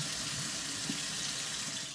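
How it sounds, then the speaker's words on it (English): Water runs steadily from a tap in a soft, continuous stream, rinsing out an empty Patrón tequila bottle, with no voices over it. "So I'm about to rinse it out."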